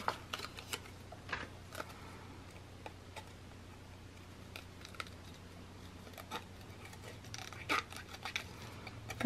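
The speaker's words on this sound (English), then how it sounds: "I'm gonna roughly cut this out just by wiggling my scissors around." Scissors roughly cutting around a painted postcard-style paper image, with a quiet series of short snips and crisp rustles over a low steady hum, close and faint, no talk.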